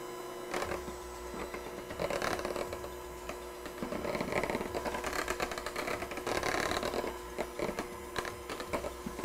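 Egg whites are whisked into an eggnog mixture, making a steady, rhythmic whirring and scraping that swells and eases in waves, close and moderately loud, with no talking.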